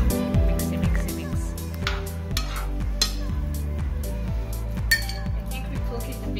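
Vegan Asian noodles with veggies, soy slices, chili and teriyaki sauce are tossed in a pan, with repeated close clinks and scrapes of utensils against the pan over a faint sizzle.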